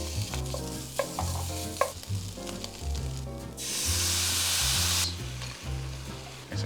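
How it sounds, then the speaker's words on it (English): Ground meat browning in a hot pan for a shepherd's pie filling, a steady loud sizzle with repeated scraping stirs and a burst of stronger hissing midway; no talking. "Just let it go so you can keep browning the meat."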